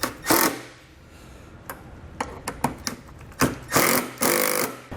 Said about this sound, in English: we can come back with our 7mm socket. Screw everything down.